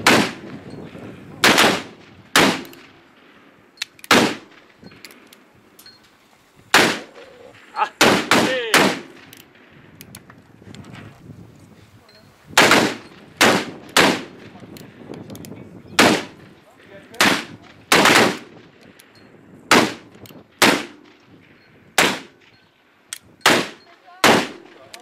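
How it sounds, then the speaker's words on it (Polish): Rifles fire at an outdoor shooting range, a long series of loud, sharp single shots at irregular intervals, sometimes in quick pairs, with quiet gaps between them. "Uwaga, strzelają!"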